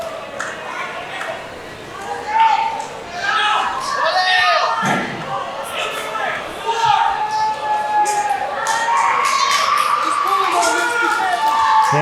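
Crowd cheering and shouting at a live pro wrestling match, with steady loud arena noise, scattered yells and a thud from the ring, under continuous excited commentary.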